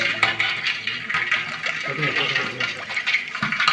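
Ash being poured into a liquid mixture and stirred while making pirandai salt, a continuous wet churning and sloshing with scraping clatters against the container, close and fairly loud.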